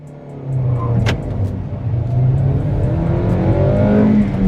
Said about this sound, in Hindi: so raving till 5000 RPM